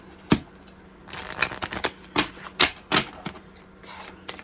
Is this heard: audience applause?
no